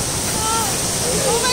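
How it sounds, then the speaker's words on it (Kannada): Steady rushing water at a water ride in GRS Fantasy Park, an amusement park in Mysuru, Karnataka: a continuous broadband wash that stays loud and even throughout, with faint voices mixed in. "ಅಲ್ಲಿ ನೀರು ಬರುತ್ತಲ್ಲ"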